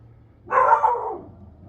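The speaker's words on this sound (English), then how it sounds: "Dog barking" A single dog bark rings out at moderate distance in an outdoor garden, short and slightly drawn out, with quiet surroundings before and after.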